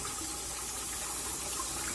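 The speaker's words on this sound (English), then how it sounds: "You wash the rice. Use cold water, not hot water. Want to agitate the rice." Rice being washed and agitated in cold running water, a continuous rushing splash of water filling the short stretch, close and steady with no talk.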